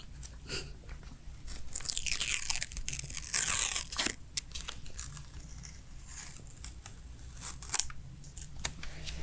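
A sticker is peeled off a CD with close, crisp crinkling and tearing noises in bursts over several seconds, quiet and intimate with no voices.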